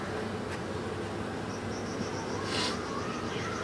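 Honey bees in an open hive during an inspection give a steady, low hum of buzzing throughout, with a faint brief rustle near the end.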